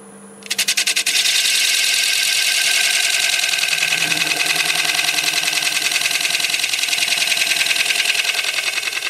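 A wood lathe spins up as the gouge slowly starts a cut into a turned bowl, bringing a loud, steady rhythmic buzzing hum with fine periodic chatter that continues unbroken for about nine seconds, close by.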